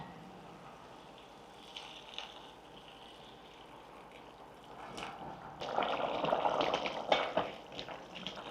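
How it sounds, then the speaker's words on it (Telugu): Water poured into a pot of chicken curry with ginger-garlic paste and potatoes: a soft steady trickle and bubbling at first, then louder, fuller splashing and sloshing in the second half as the liquid fills the pot. "150 ml వాటర్ పోసాను."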